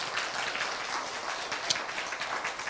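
Applause from a lecture audience in a university hall after a talk, a soft, steady patter of many hands heard at a distance and fairly quiet throughout.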